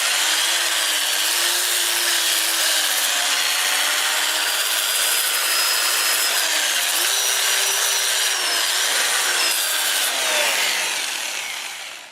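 A mesquite bowl spins forward on a wood lathe at about 400 RPM while 100-grit sandpaper presses against it, giving a steady, loud abrasive rasp with a faint wavering whine that runs unbroken and fades only at the very end.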